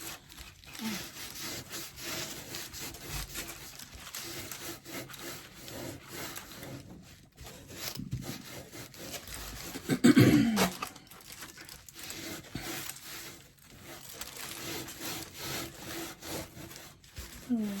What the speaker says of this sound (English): I think I can just sand the rest off.